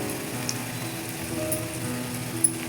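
Onions sizzle in a hot pan for a curry, a steady crackling hiss with a couple of sharper pops.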